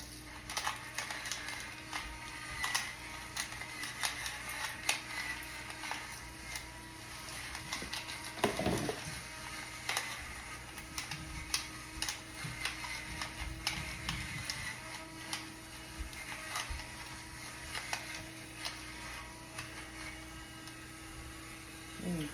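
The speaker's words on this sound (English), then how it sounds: "let me hit those potatoes with some cracked peppercorn black pepper" Pepper grinder cracking black peppercorns over potatoes in a home kitchen, a long run of faint, dry crunching ticks with occasional louder grinds, steady and close with no talking.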